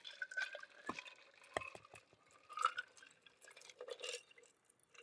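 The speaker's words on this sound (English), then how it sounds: "And strain into the cocktail glass." A Cinco de Mayo cocktail is strained into a cocktail glass, producing soft, close dripping and trickling with small glassy clinks, quiet and irregular throughout.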